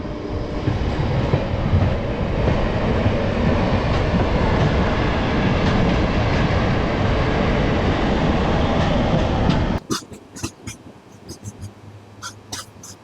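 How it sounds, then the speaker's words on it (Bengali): Train on the Vizag to Araku line at Kottavalasa Junction, a loud steady roar of wheels and carriage rumble that abruptly drops to a quiet station ambience with scattered clicks and faint background noise. "আমাদের ট্রেন চলে এলো তার চতুর্থ স্টেশন কোট্টাভালসা জাংশনে।"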